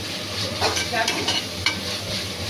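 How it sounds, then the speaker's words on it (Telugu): Garam masala paste roasting in a pan for chicken biryani, a close, steady sizzle with several quick scraping stirs and one sharper clack. "దీన్ని కూడా బాగా రోస్ట్ చేసుకోవాలి, పచ్చి వాసన పోయే వరకు రోస్ట్ చేయాలండి"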